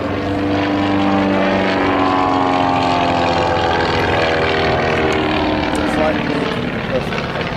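Harrier jet aircraft at an air show, a loud continuous engine roar with shifting droning tones holding steady throughout, with an announcer's voice talking over it.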